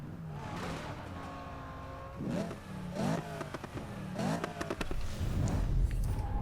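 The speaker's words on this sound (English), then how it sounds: "This at lower revs is amazing." Corvette in Need For Speed 2015 burbles at low revs, then climbs through repeated throttle blips and rising revs, loud and close, with no voices.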